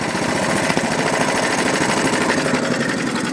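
An old engine runs loud and close with a rough, steady chugging that holds level throughout while its revs are eased down slightly, with no talk.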